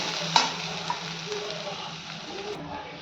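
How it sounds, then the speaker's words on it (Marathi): Soaked lentils roasting with spices in a pan, a low frying sizzle with a few faint stirring clicks and scrapes, fairly quiet throughout. "ही डाळ ही मसाल्याबरोबर व्यवस्थित भाजून घ्यायची"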